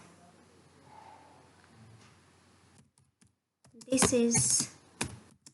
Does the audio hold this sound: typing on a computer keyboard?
yes